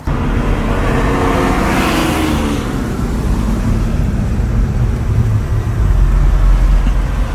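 A car passes close by, its engine loud and full for the first few seconds before easing into a steady low rumble that lingers to the end, with no talk over it.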